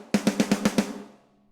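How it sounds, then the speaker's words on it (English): Six quick center hits on a snare drum skin in an even, rapid run, each bright crack leaving a ringing tonal body before a short decay into quiet, close and clear with no talk. "if you strike a snare drum here on the skin, that's generally called a center hit"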